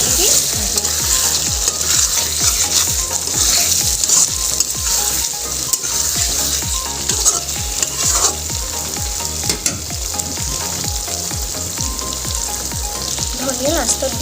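Potatoes and tomatoes frying in a pan, giving a loud, continuous sizzle with a regular scraping rhythm from a spoon or spatula stirring throughout, close up and alone.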